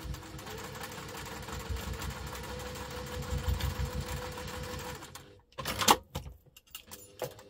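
A sewing machine stitches a double-compartment crossbody bag with a continuous close whirring hum for about five seconds, then stops, followed by a few brief clinks and handling sounds.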